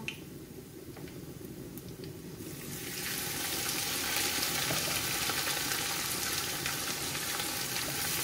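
Sliced onions sizzle and crackle in hot oil while frying for a shrimp and green bean curry, a steady close hiss that swells louder after a few seconds.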